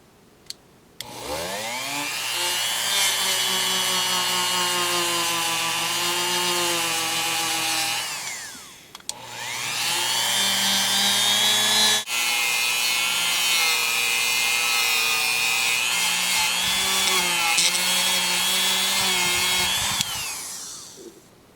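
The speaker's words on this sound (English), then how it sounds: "This won't take but just a couple seconds here with the Dremel." A Dremel rotary tool grinding on Smith & Wesson third-generation pistol parts, a loud high whine in three sustained passes with a short break between the first two, no talking.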